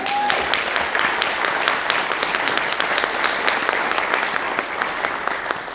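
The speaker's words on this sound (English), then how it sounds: "So hand of applause for all of you." A conference audience claps steadily throughout, a sustained round of applause at moderate volume.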